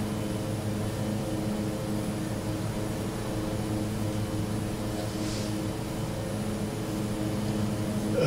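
Aerosoft Twin Otter twin-turboprop taking off in Microsoft Flight Simulator, its engines a steady, loud droning roar with a constant tonal hum that stays even and unbroken throughout the slow takeoff roll.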